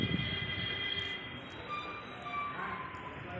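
A train rumbles along steadily with a low rolling roar, faint metallic clinks and a thin wheel squeal rising above it.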